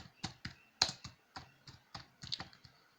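Keys on a computer keyboard are tapped in a quick, irregular run of soft, close clicks, about a dozen strokes with no talk, while text is typed into a Microsoft Word document.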